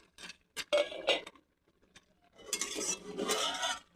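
A lid is lifted off a cooking pot of kumda and saag, a few close metallic clinks and scrapes followed by a louder rattling, hissing clatter from the cookware.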